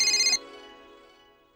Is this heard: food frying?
no